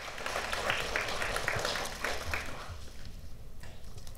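Audience applauding at a forum welcoming attending candidates, a fairly quiet, steady clapping from a crowd that thins out toward the end.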